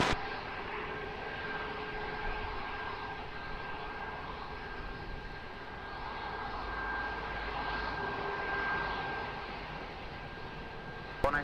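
Airliner powering up for takeoff on runway 20 at Lisbon Airport, a sustained distant jet engine roar with a steady whine, swelling slightly midway and holding without speech.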